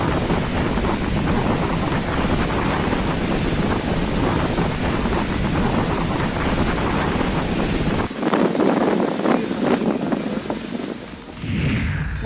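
Rough cyclone-driven sea waves and strong wind batter a ship drifting off Mirkarwada port, with a loud, continuous roar of surf and gusts buffeting the microphone.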